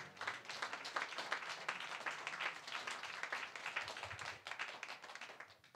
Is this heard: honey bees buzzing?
no